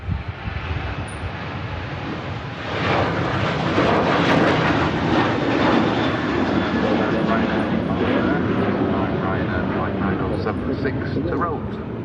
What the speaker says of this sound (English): To Rhodes, Boeing 737-800.